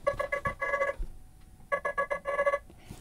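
The Nothing Phone 2 "Crossing" ringtone plays as two rapid runs of bright, pulsing electronic tones separated by a brief pause, clear and close with no talking.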